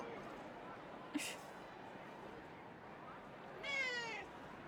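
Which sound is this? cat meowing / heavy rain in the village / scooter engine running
cat meowing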